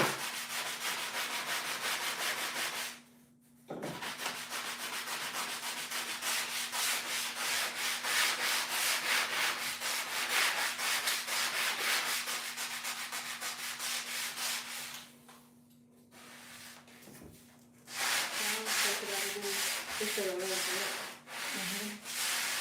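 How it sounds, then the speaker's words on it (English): Wood edges of a homemade dog grooming table being smoothed with sandpaper, close rhythmic rasping strokes in long runs with two short pauses and a low steady hum underneath, no speech. "So I'm just smoothing out the edges."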